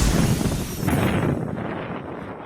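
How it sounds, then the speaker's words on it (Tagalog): Strong typhoon winds from Typhoon Julian batter Batanes, a loud, roaring rush that buffets the microphone for a couple of seconds before easing slightly. "Ganito katindi ang hampas ng hangin sa Batanes sa kasagsagan ng pananalasa ng bagyong Julian kahapon."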